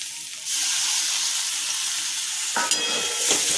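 Chopped tomatoes drop into hot spiced masala for a Bengali mutton curry, setting off a loud, steady sizzle that swells after a quiet start, with a few sharper spits and stirring scrapes near the end.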